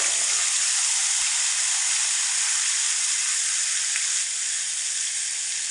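Tomato and green chili paste hits a hot pan for a vegetarian soybean curry, giving a steady, loud, close sizzle with bubbling hiss that holds evenly throughout.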